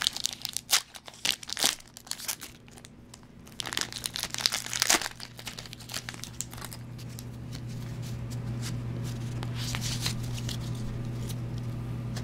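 Crinkling and tearing of a Pokemon Undaunted booster pack wrapper, a run of sharp crackly bursts over the first five seconds that gives way to softer, continuous rustling handled close up.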